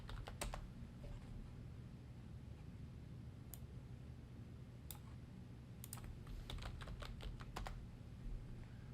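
Someone types an object class name on a computer keyboard: faint, scattered clicks that pick up into a quick run of keystrokes near the end, over a low steady hum.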